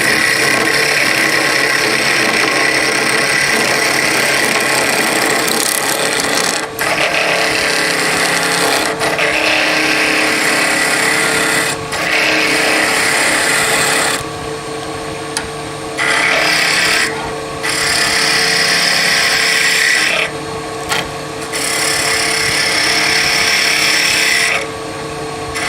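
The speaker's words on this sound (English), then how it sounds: "Roughing out with a skew is fine for smaller pieces, but not so good for larger pieces." Skew chisel roughing out a small wooden spindle on a lathe spinning at high RPM, giving a steady, loud rasping scrape with brief pauses between cuts and no talking.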